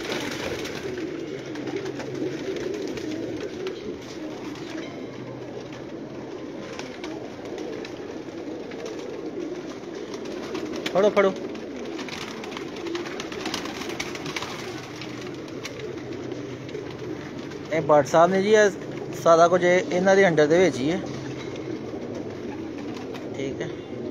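Pigeons of many breeds coo softly at a rooftop pigeon loft, their low murmuring steady throughout beneath someone talking, with louder bursts of fluttering or calls near the middle and end.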